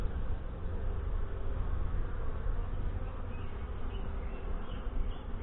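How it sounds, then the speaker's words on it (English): Honey bees (Saskatraz) swarming around an open brood frame during a hive inspection in northwest Wisconsin, a dense, continuous buzzing hum, close and steady, with no speech. "Let me blow the bees away here a little bit."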